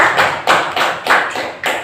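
Classroom applause after a student presentation in a lesson, heard as a few loose bursts of claps with short gaps between them, close and moderately loud, with no talking.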